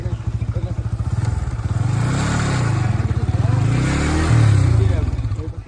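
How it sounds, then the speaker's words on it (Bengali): A motorcycle pulls up nearby, its engine chugging with a pulsing throb that swells and eases as it arrives, while people talk over it. "চলে চলে এসেছে বাইক"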